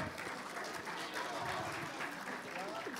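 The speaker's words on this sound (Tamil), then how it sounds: "அவர்களுக்கு ஒரு முறை கைதட்டுங்கள்." An audience at an annual school function applauds award-winning teachers with a sustained, moderately distant wash of clapping, and a voice can be heard faintly beneath it.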